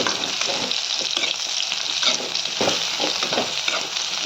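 Bitter gourd browning in oil gives a continuous crackling hiss, close and even, with intermittent stirring scrapes and no speech over it.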